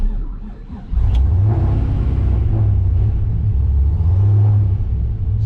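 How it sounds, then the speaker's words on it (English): A boosted Pontiac GTO engine fires up about a second in, then settles into a loud, deep, throbbing rumble close by, swelling slightly as it is revved and holding steady to the end. "Now we're gonna go ahead and start this thing up, and we're gonna see if it'll let me actually rev it up."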